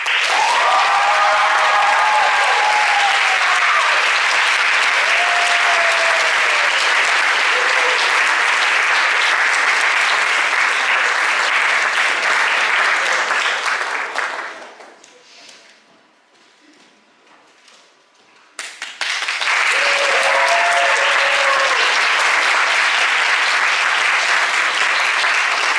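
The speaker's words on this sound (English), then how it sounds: "Ladies and gentlemen, please give a round of applause for Sarah." Loud, sustained applause from an audience at a high school senior awards ceremony, honoring a student. It fades into near silence midway, then surges back at full strength, with faint cheers mixed into the clapping.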